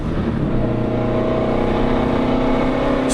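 A car driven hard around a track at Carfest, heard from inside as a loud continuous engine drone with steady tonal hum and no pauses.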